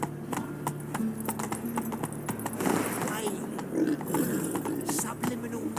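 Hooves of a horse in The Witcher 3 video game clip-clop in a quick galloping rhythm, fairly close, while someone talks over them now and then.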